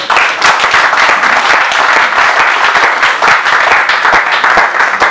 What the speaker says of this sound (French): Est-ce qu'on ne peut pas acclamer d'abord pour nous-mêmes?